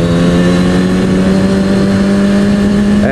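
A motorcycle engine holding a steady, loud drone with strong harmonic tones, briefly easing off as the rider lets off the throttle for a clutchless upshift near the end, recorded close with no talk.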